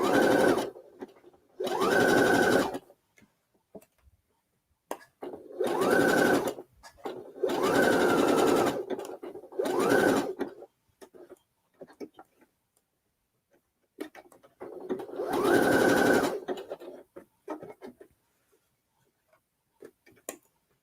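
A domestic sewing machine stitching a thrifted lace dress whirs in short bursts of one to two seconds, separated by quiet pauses with faint handling clicks, heard close up.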